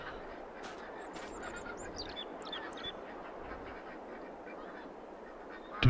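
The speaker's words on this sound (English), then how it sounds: "Oh, spooky ducks." Ducks and geese on a Midwest farm in Farming Simulator 22 quack and honk in scattered calls over a steady ambient hum, fairly faint and somewhat distant, with no talking.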